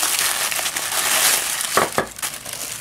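Packaging around Derby Extra razor blades is unwrapped by hand, with close, continuous crinkling and crushing, then a few louder rustles toward the end.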